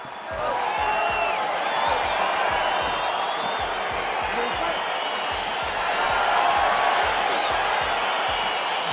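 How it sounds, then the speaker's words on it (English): An arena crowd in EA Sports UFC 4 roars and cheers steadily as a fight gets underway, a dense, continuous wash of noise that swells slightly near the end. "crowd getting excited as this fight gets underway"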